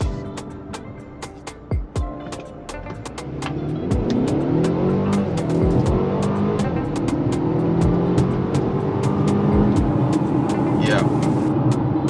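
A 2022 Mercedes GLA 250 compact SUV accelerates hard from a standstill, its engine note rising through several gear changes in a steady, loud interior drone, with a person talking over it.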